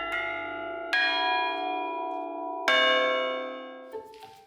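A large bronze bell at a traditional bell foundry in Agnone, southern Italy, is struck several times, each loud, rich strike ringing on with long overlapping tones.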